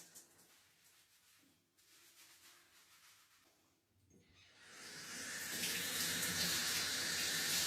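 Water from a faucet rinsing shampoo out of hair, starting as soft trickling and swelling into a steady loud close gushing spray that continues to the end.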